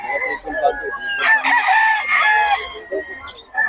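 A Batangas gamefowl rooster, regular gray, crows loudly and close by in a long drawn-out call, with other fowl sounds and faint clucking around it.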